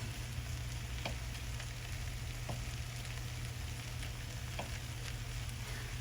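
Butter sizzles in a pan for Spam fried rice, a constant bright hiss with a few faint clicks of a utensil, with no talking.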